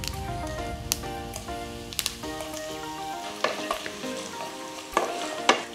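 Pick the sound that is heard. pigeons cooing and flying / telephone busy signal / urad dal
urad dal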